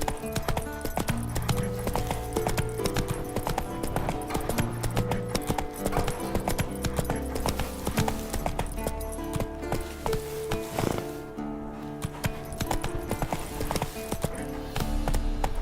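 A horse galloping in The Witcher 3: Wild Hunt, with loud, rapid, steady hoofbeats running throughout, layered over other game sounds.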